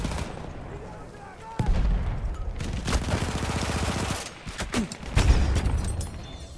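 In a Battlefield 1 multiplayer match, an Automatico submachine gun fires rapid bursts mixed with other gunfire and explosions, a dense, loud fusillade of close shots.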